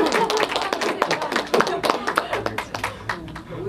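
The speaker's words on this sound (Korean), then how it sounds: "박수 쳐야 되는 거 같아요" An audience at an indie cinema Q&A screening claps in uneven, close individual strikes rather than a smooth wash, with talk running over the clapping.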